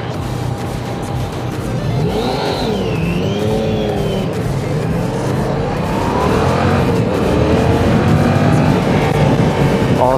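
A Yamaha MT-07 motorcycle engine on a test ride, loud and continuous with rising and falling revs and wind rush, other test-ride bikes nearby, and no talk over it.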